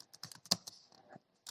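Quick bursts of close, crisp clicking keystrokes on a computer keyboard, an irregular run of taps with one sharper press and a short pause before a final tap, with no talking.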